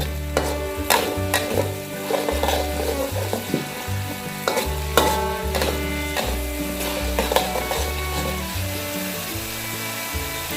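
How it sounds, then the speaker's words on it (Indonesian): Ground spice paste for rawon, an East Javanese beef soup, sautéing in a pan, with a steady loud sizzle and repeated scraping and stirring strokes of a utensil throughout, close up and without any talking. "Selanjutnya kita tumis bumbu yang sudah dihaluskan tadi. Kita tumis sampai baunya wangi."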